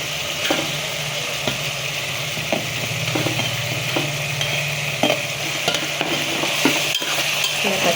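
Cut eggs frying in oil and masala in a pan for a Telugu egg pulusu, a steady close sizzle with a low hum and scattered clinks of a spoon stirring against the pan.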